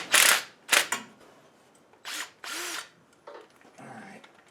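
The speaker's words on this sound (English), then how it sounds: "let's take that 5/8 bolt out of the top" A wrench works a 5/8 bolt loose from the top of a small block Ford engine in a classic Mustang. It comes as several sharp, loud mechanical bursts with quieter rattling between them, close by.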